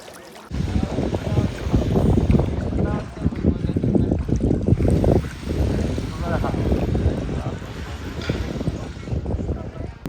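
A boat moving across a lake in Vietnam, its steady engine and water noise running continuously with wind buffeting the microphone, while a person talks over it throughout.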